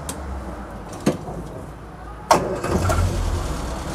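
A 1980 Land Rover Series 3 88-inch lightweight soft top starts up with a couple of cranking clunks, then its engine catches and settles into a rough, close idle.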